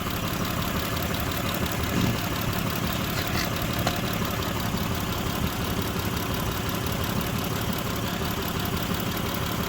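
A Mitsubishi Pajero engine idles with a cylinder 4 misfire (code P0304), giving a constant close mechanical rumble with a faint uneven knocking pulse throughout and no talking.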